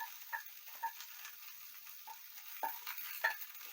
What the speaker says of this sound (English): we've put the fish and the onions in the pan